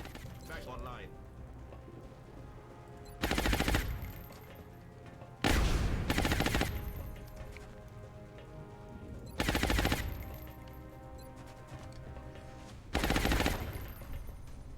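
Bursts of automatic gunfire from a firefight in XCOM Long War during an alien base assault, four loud sustained volleys of about a second each spaced apart, with quieter game ambience between them.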